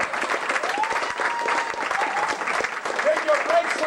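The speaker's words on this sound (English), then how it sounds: "Would you give him a wonderful round of applause?" An audience claps steadily at a blues club gig, a dense, sustained wash of applause close by with a few voices calling out through it.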